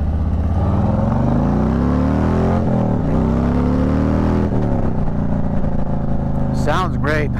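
A motorcycle fitted with a Freedom Shields windscreen riding on the highway, its engine drone rising and falling under loud, steady wind rush, with brief vocal sounds near the end.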